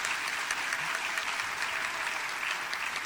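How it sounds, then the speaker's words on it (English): Audience applause at a school district Teacher of the Year ceremony, a steady wash of clapping from a crowded hall, moderately loud and continuous with no talking over it. "Please give a round of applause for Bobby Carroll, Armstrong's Teacher of the Year."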